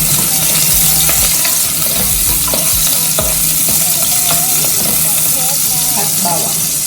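Onion sizzles as it fries in a pan for Filipino squid adobo, with a loud continuous crackle close by, occasional stirring clinks, and a person talking over it.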